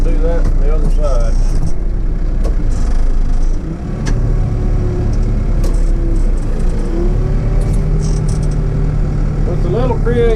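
A backhoe's engine drones loudly and steadily, revving and shifting in pitch as the machine works near a ditch.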